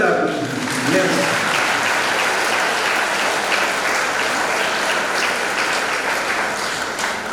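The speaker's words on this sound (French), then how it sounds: "On les applaudit." A church congregation claps for the parish choir committee during a Saint Michael Archangel feast Mass, sustained loud applause with a voice briefly heard at the start.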